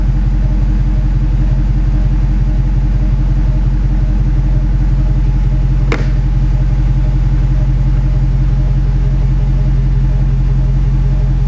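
A Roush Mustang engine idles with a steady deep rumble while the car slowly reverses into place, loud and close throughout, with one brief sharp click near the middle.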